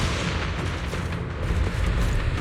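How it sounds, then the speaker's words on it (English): Rumbling, booming explosions in the Zenless Zone Zero video game, dense and continuous, like a sustained artillery barrage filling the whole moment with loud low-end blasts. "The explosions are becoming more frequent."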